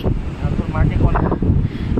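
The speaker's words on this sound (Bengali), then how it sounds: "ছাদে এসে এত সুন্দর হাওয়া দিচ্ছে" Wind gusting across a rooftop in Puri, a steady low rumbling buffet against the microphone with voices talking over it throughout.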